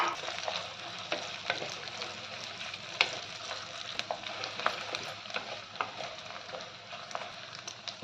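Mustard seeds, cumin, curry leaves and dried red chillies crackle and sizzle as tempering fries in oil in a clay pot, a steady close hiss dotted with sharp pops and light stirring scrapes, with no voices.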